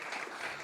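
Brief, soft burst of audience clapping at a police interview class briefing, an even smear of many hands heard from a distance.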